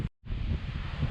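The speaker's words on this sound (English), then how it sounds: "it's still gusting like a SOB" Strong desert wind gusts roar across the microphone after a brief dropout, a loud, dense rushing buffet with rustling texture and no voices.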